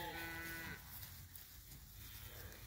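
Cattle on a pasture being grazed to build healthy soil give a drawn-out moo that fades after under a second, followed by quiet outdoor background noise.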